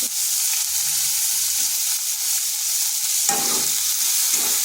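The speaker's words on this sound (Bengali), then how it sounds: "এগুলো হালকা একটু ভেজে নেব যাতে কাঁচা গন্ধটা চলে যায়।" Slivers of garlic fry in a pan with a loud, steady, bright hiss of hot oil, close and continuous, with a few soft scrapes of stirring and no talk.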